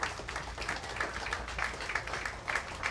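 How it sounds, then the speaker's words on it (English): A bowling crowd at the PWBA Lincoln Open applauds the tournament finalists, a sustained, even patter of clapping from a moderate-sized audience with no voices over it. "One more big round of applause for all of them."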